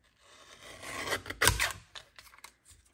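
A paper trimmer blade slides across a sheet of cardstock in one short, rasping cut, swelling briefly to a sharp scrape before fading out, quiet and close with no voices.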